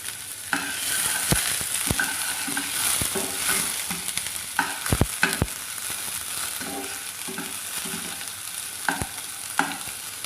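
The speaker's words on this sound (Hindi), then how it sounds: "अब हम इसमें प्याज ऐड करेंगे और इसको सौते कर लेंगे।" Onions sizzling in oil in a pan over low heat, with a spoon stirring and scraping at intervals, steady frying crackle underneath, close and moderately loud with no talking.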